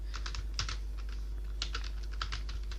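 Rapid typing on a computer keyboard, with bursts of close keystroke clicks over a steady low electrical hum and no talking.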